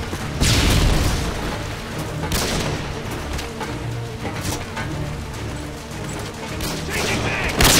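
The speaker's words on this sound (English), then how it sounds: "stun grenades." Stun grenades bang in an underpass amid bursts of gunfire, heavy booming blasts and rattling shots echoing close by, with voices calling out between them.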